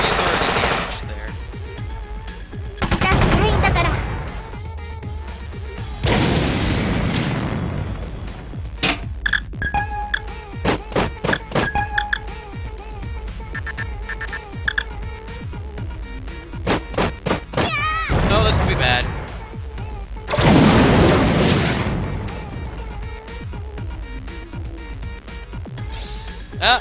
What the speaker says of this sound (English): You just go ahead and fire, he's already damaged there.